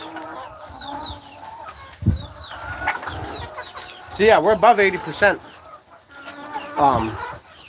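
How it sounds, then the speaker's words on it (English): Laying hens on an industrial farm cluck repeatedly in a busy, fairly close flock, with one louder burst of rising squawks partway through, while a person talks over the birds. "we're dealing with a lot of 3-year-old birds and a lot of birds that are just starting to get laying"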